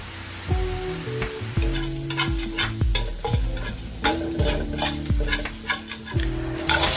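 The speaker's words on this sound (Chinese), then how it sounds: "热锅放入配料爆香，" Aromatics stir-fried in a hot wok before mantis shrimp go in: a steady sizzle under repeated loud scraping strokes of a spatula against the metal pan, roughly one every second, close by.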